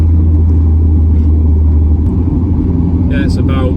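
Steady low engine rumble and road drone inside a moving Ford Mondeo Mk3, continuous and fairly loud, with a few brief higher noises near the end.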